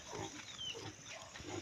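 A pig grunts in a farm pen with several short, low, rough grunts coming in an uneven rhythm, faint and fairly close, with no talking heard.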